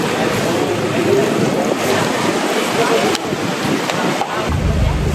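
Rushing river water and wind during a boat rafting trip in Phuket, Thailand, a loud continuous roar with buffeting wind noise on the microphone, close up and unbroken.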